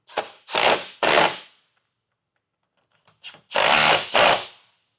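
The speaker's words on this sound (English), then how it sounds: "now we can tighten it down with a 13mm socket" Power tool with a 13mm socket tightening Westin Sure-Grip running board bolts on a 2025 Ford Explorer, five loud close bursts: three quick runs, a pause with faint clicks, then two more.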